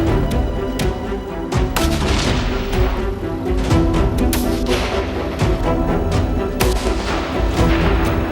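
Rifle shots fired at a kangaroo during a wild harvest cull, loud sharp blasts with booming echoes in a dense, continuous stretch, no voices.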